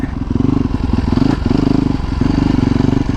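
Yamaha WR250R dirt bike fitted with supermoto wheels, ridden off-road on wet ground: a loud, close single-cylinder engine thrumming steadily with a pulsing throttle rhythm, briefly dipping and then picking back up.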